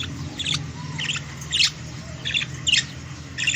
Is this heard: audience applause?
no